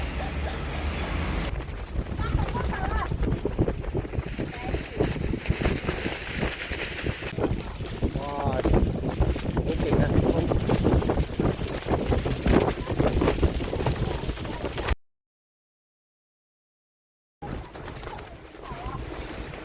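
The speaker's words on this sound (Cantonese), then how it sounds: "好大風啊！" Strong coastal wind buffets a cyclist riding along the shore, a loud continuous roar with voices underneath and a brief dropout near the end.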